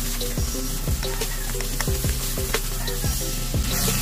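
A creamy corn chicken sauce is stirred into sautéed aromatics in a pan, with a loud steady sizzle and rhythmic scraping stirs about twice a second under background music.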